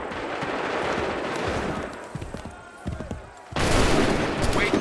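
Musket volleys in Assassin's Creed 3, fired by soldiers in a George Washington battle: dense crackling gunfire with scattered sharp reports, a lull of a few isolated pops, then a sudden loud massed volley bursting in near the end.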